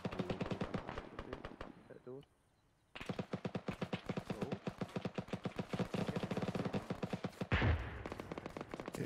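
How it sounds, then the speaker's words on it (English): A heavy machine gun in the Arma 3 video game hammers out long, rapid, evenly spaced bursts, loud and close. It breaks off briefly, then resumes with a heavier thump near the end, and a voice is faintly present at times. "Careful, I'm being suppressed by a heavy machine gun"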